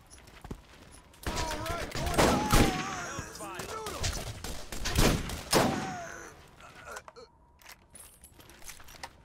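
Gunfire in the Borderlands video game, bursts of shots and weapon sounds alternating with players talking, then a quieter stretch near the end.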